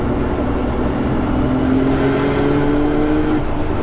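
Nissan GT-R RB straight-six engine swapped into a 200SX, tuned to 530 bhp, pulling hard under boost in third gear with a loud, steady, rising engine drone and no talking.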